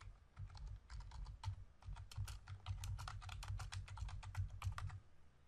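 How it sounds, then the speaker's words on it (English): Rapid, steady keystrokes on a computer keyboard as a command is entered at a command line for Oracle SQL*Plus on Windows 10, close and clear, with no voices. "So I simply write SQL+ as sysdba"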